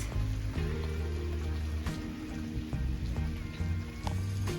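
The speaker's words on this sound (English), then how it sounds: "And it's starting to rain." Rain begins falling on an October garden in mid-Michigan, with steady light patter and scattered sharper drops over a continuous wet hiss, heard alone at a soft level.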